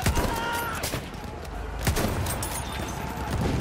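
Gunshots crack repeatedly in Battlefield 1 amid a busy battle din, with a few sharper reports standing out and a voice talking faintly underneath.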